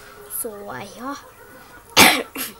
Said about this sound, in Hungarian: előre is bocsánat, hogy nagyon sokat köhögök